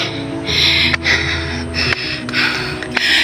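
Heavy, rhythmic panting from a hiker climbing a steep uphill trail near the Palsuguan River, breaths loud and close with short gasps at regular intervals.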